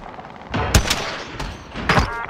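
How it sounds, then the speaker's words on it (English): Gunfire in Call of Duty: Warzone at Verdansk's prison, a few separate sharp shots and short bursts ringing out at mid distance over background game ambience. "One shooting at you in prison."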